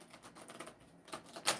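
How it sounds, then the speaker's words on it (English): A deck of tarot cards shuffled sideways gives a quiet, rapid run of papery clicks and riffles, ending in a brighter, crisper burst, with no voices. "Now these shuffle beautifully sideways."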